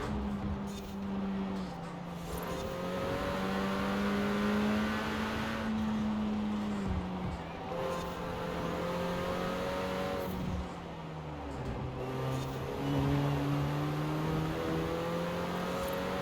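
Renault Clio R.S. 16 Concept racing in Forza Horizon 4, engine pitch rising and dropping through gear changes and revs, loud and continuous with no talk.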